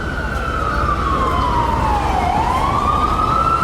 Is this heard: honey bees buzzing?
no